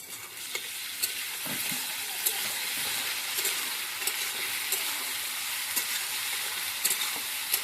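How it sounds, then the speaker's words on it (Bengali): Chili paste sautéing in a taro and hilsa curry, a steady loud sizzle with a spatula stirring and scraping the pan in an irregular rhythm, close and continuous. "ভালো করে কষিয়ে নেবো এবার।"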